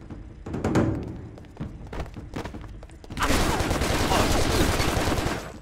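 Gunfire in the action game Stranglehold inside a confined room, with scattered shots early and then a dense, loud stretch of continuous firing and impacts.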